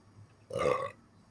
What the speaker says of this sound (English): Who burped?